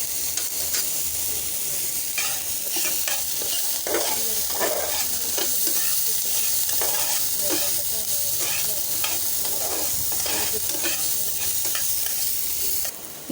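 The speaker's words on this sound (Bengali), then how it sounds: "প্যানের মধ্যে দেওয়া হয়েছে একদম অল্প করে তেল। দিয়ে দিচ্ছি পেঁয়াজ, দিয়ে দিচ্ছি কাঁচামরিচ, দিয়ে দিচ্ছি লবণ" Onion, green chili and salt frying in just a little oil in a pan, a constant close sizzle broken by repeated scraping strokes of a spatula stirring the mixture.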